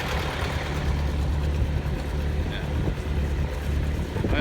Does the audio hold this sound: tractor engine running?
yes